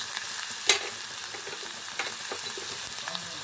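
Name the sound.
stirring stuffed patol vegetables with turmeric and cumin in pan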